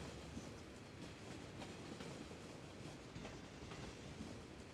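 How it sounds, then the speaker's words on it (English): In the Cities: Skylines city-builder, a train pulls into a station with a soft, steady rumble and faint rhythmic wheel clatter, heard at a distance and fairly quiet throughout. "I think there was just a train arriving"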